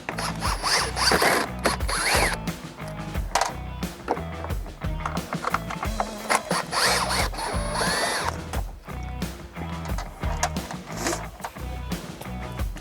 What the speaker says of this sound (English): Using a T25, we're going to remove the 3 screws that hold in this overhead panel.